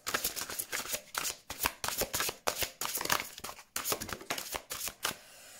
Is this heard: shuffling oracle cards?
yes